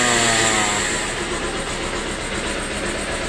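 A Bajaj Pulsar 220 motorcycle engine runs at close range with a loud, throbbing rumble that settles into a steady idle, with no speech.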